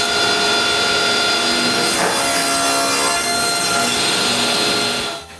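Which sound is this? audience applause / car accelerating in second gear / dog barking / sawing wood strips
sawing wood strips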